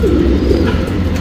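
Geerva and Guldhar breed pigeons coo steadily at close range, a low, continuous throaty burble with no voices over it.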